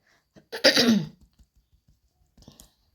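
A single close, rough cough bursts out, followed by quiet small clicks and a faint breathy sound near the end.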